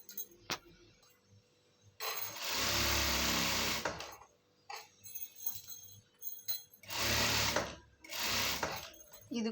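A sewing machine runs in three separate bursts, fairly quiet, as it puts a double stitch along a pair of pants, with pauses of light handling noise between runs.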